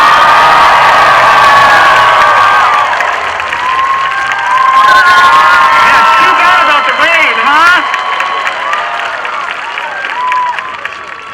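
An outdoor high school graduation crowd in wet, inclement weather cheers and whoops, with applause and shouting swelling loudly at first, then breaking into scattered yells and whistles that fade and flare again.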